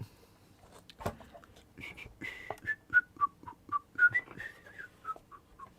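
Someone whistles a short melody in clear, distinct notes, one after another, close by with a little background noise underneath.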